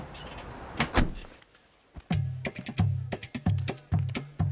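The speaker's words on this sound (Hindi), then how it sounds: "तुम बाहर से दरवाजा बंद कर दो" A door being shut in an action movie scene, several sharp clacks and thuds of a door and latch at close range, a quiet pause, then a rapid run of repeated knocking impacts.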